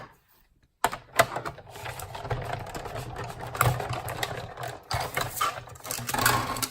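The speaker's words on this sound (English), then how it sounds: "I'm using my largest scalloped oval, and I'm going to cut that out right in the middle too" A die-cutting machine pressing card stock through a large scalloped oval die, a steady mechanical grinding and rumbling that starts abruptly after a short silence and runs on continuously with small bumps and surges, no voices.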